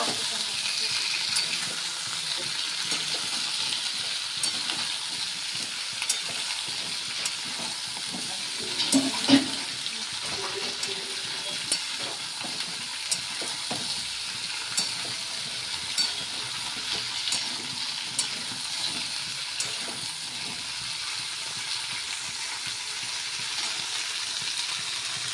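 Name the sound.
frying dried greens in a pan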